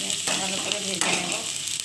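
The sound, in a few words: onion frying in a pan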